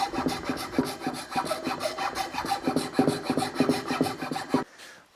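Rapid, rhythmic rasping strokes of abrasive sanding a wooden push stick, close and steady, stopping abruptly near the end.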